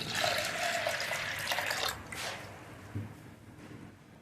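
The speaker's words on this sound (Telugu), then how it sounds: "సరిపడా వాటర్ పోయాలి" Water pours into a pressure cooker holding moong dal, a splashing stream for about two seconds that gives way to quieter drips and a soft knock.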